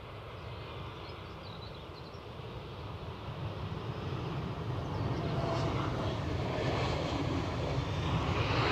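A JetBlue airliner's jet engines roar steadily at an Edinburgh airport, a broad, continuous rumble that slowly grows louder over the clip with no break.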